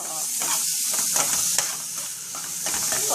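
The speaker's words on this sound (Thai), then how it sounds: "แล้วเราก็ใส่หมู" Pork goes into a hot pan for a Thai rad na dish and sizzles loudly while it is stirred, with scraping and steady frying hiss all the way through.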